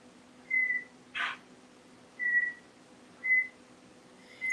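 An Amazon parrot gives a series of short, clear whistles, spaced a second or so apart, with one brief squawk early on, against a quiet room hum.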